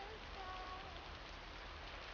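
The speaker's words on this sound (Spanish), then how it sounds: "Está Igual lloviendo acá en Terrantejo" Steady rain falling outdoors, a dense, even hiss of drops on surfaces that holds constant throughout with no voices.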